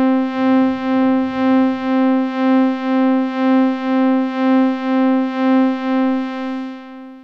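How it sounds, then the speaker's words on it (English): A single held key on an FM synthesizer with a fixed carrier and detuned operators sounds a steady, bright harmonic tone whose loudness pulses in a slow, regular beating of about two swells per second. A faint rustle is heard near the start. "So what you're hearing is this beating effect that's going on."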